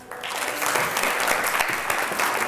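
Audience applause greeting a panelist walking on stage at an Edinburgh TV Festival panel, a dense, steady clatter of many hands that swells after a quieter start and holds loud throughout.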